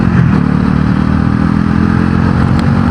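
A Bajaj Pulsar NS400z motorcycle cruises at about 100 with a loud, steady engine drone, mechanical clatter and wind rush, heard up close with no speech.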